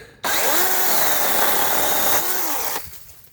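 Makita DUC407 18V cordless chainsaw cutting through a thin piece of wood, a steady loud whine that starts abruptly and runs for about two and a half seconds before cutting off and winding down.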